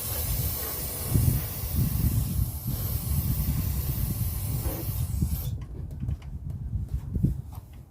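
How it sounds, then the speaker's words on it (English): Aerosol cleaner spraying into the air intake of a 2008 Toyota Sienna minivan, a long steady hiss over a low idling rumble that cuts off into quieter idle near the end. "I'm gonna spray a little bit more"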